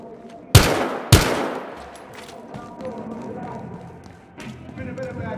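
Two sharp, loud gunshots from a video game firefight in Battlefield Hardline, with police officers engaging armed suspects, followed by a further shot later amid background game noise and voices.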